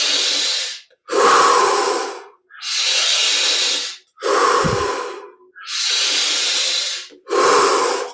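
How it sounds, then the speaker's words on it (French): Deep forceful breathing in a Kriya Yoga exercise, six long hissing breaths in a slow steady rhythm, close and loud, with no talking. "On va rajouter 5 respirations."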